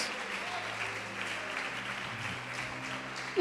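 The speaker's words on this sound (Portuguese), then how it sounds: "Pode aplaudir e glorificar o Senhor Jesus." Church congregation applauding after a call to glorify Jesus during a sermon, a steady, fairly soft wash of clapping from many hands that holds evenly throughout, with a sudden louder burst at the very end.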